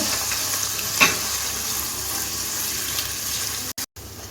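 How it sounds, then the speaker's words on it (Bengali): Chopped onion frying in a pan on a gas stove, a dense, steady sizzle close by with a single stir clink near the start, alone without talk. "আমি এখন পেঁয়াজ কুচিটা দিয়ে দিচ্ছি গ্যাসটা মিটিয়ে রেখে পেঁয়াজটাকে আমি হালকা বাদামি করে ভেজে নেব"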